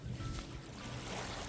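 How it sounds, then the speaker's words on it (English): Waves wash against a beach with a steady broadband rush of water and wind, continuous and moderately loud, with no voices. "Hear the beautiful sound of water, birds, breeze of air"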